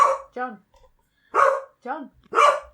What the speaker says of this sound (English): every time she says shut, it barks again